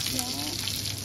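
Breaded fish deep-frying in a pot of hot oil gives a steady, dense sizzle and crackle throughout, with a faint voice briefly in the background.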